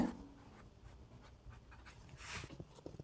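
Chalk or a marker scratches marking lines onto fabric for cutting a men's kurta, soft close scraping strokes in short bursts, quiet and alone.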